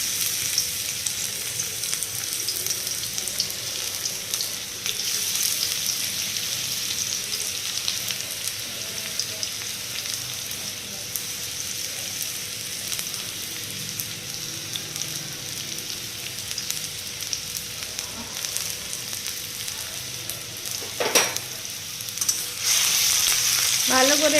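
Garlic fries in hot oil for garlic and black pepper chow mein, making a long, even crackling sizzle close by, with a brief metallic clink near the end.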